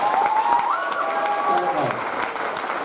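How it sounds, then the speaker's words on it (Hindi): Audience clapping at a business talk, a broad, steady wash of applause that continues for a few seconds while a voice speaks over it. "एक बार मेरे लिए ताली बजाइए आप लोग।"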